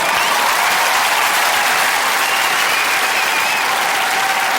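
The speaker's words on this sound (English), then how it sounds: "Give them all a round of applause" Audience applause for the roasters at a comedy roast of Davina McCall, a dense, steady wash of clapping from a large crowd, loud and continuous throughout with no talk over it.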